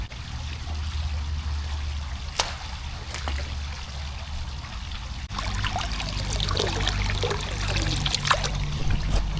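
Water splashes and trickles steadily as a bilge pump pushes it out, the flow growing louder and busier halfway through, over a low motor hum.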